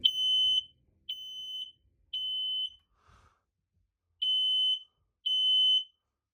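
A Kidde P9050 photoelectric smoke detector sounds its test alarm in a spare bedroom: loud, piercing electronic beeps, three in a row, a short pause, then two more, alone in a quiet room.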